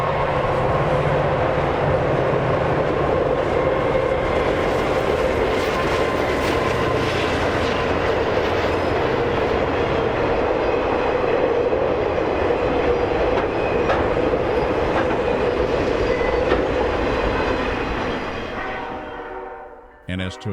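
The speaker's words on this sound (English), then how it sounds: "NS 287 heads over a highway bridge near the Mound Labs." Norfolk Southern freight train NS 287 crosses a highway bridge near Mound Labs, a loud continuous rumble of wheels and cars with rhythmic clatter that rolls steadily for a long stretch before dropping off near the end.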